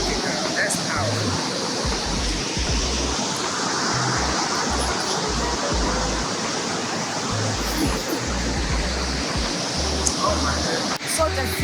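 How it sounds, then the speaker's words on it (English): Victoria Falls (Mosi-oa-Tunya), the great waterfall shared by Zambia and Zimbabwe, roars with a steady, dense rush of falling water and mist, loud and unbroken throughout. "the Victoria Falls is a transboundary waterfall"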